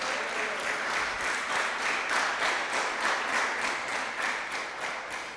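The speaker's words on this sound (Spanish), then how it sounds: "aplaudan con libertad" A church congregation claps in steady, rhythmic unison, each beat sharp and evenly spaced, filling the hall without pause.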